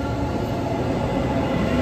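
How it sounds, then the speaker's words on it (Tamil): A metro train rumbles steadily nearby, a constant loud roar of wheels and motors with no pauses and no voices. "இதான் நம்ம போக வேண்டிய ட்ரெயின் மெட்ரோ."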